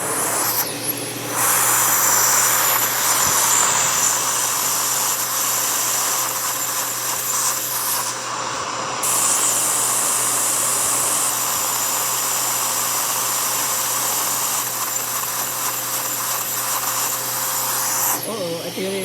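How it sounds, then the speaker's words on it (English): A small Lego motor starts up and runs continuously, a loud steady buzzing whir with bright high hiss that holds for the whole stretch, shifting slightly in tone midway. "This is the video of my Lego motor."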